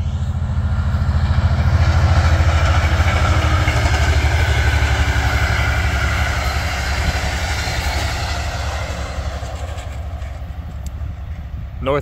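A northbound Priority Intermodal freight train passes at high speed, a loud, steady rumble and roar of wheels and cars that holds for the whole stretch and eases slightly near the end.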